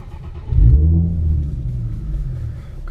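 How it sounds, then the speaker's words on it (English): A car engine cranks and catches inside a garage, then settles into a loud, close, steady low rumble that holds without a break. "Start the car."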